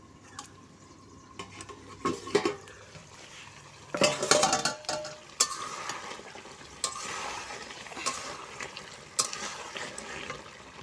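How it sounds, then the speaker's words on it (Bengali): Meat cooks in a pot over a clay stove, with irregular metal scraping and clinking from stirring, a burst of louder sloshing around the middle, and a low simmer underneath, heard up close. "আর এই যে উনুনে রান্না হচ্ছে, এখানে হচ্ছে মাংসটা রান্না হচ্ছে।"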